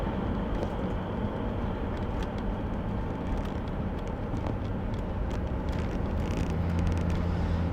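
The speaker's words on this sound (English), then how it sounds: "And this 400 V8 sounds great." A 1973 Ford Galaxie with a 400 V8 runs at a steady, moderately loud drone with low rumble, heard from inside the car with faint road and interior noise.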